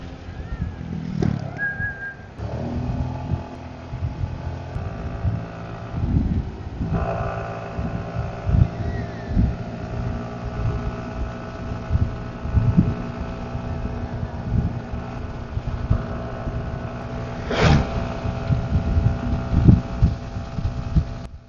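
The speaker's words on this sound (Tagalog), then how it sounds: "medyo mahangin na po" Wind rushes steadily over the rider while a Suzuki Burgman S scooter cruises a long straight road, with buffeting gusts and a low engine drone underneath and a few sharp bumps along the way.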